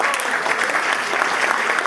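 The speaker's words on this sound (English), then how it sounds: "All right, give them a round of applause." Dense applause from a crowd at an engagement celebration, honoring the engaged couple after their first dance; steady, loud and continuous throughout, with no distinct voices standing out.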